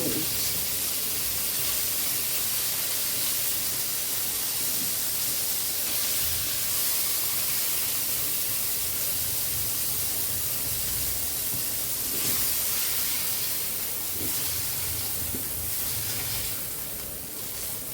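Potato and pointed gourd frying with salt and turmeric give a steady, close hiss and sizzle that holds for the whole stretch, with faint clatters of stirring now and then.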